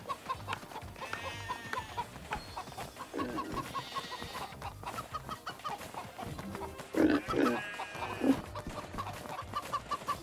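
A pig stuck in the mud on a farm gives a few short grunts, mixed in with nearby chicken clucking and general livestock noise, moderately close, with no talking.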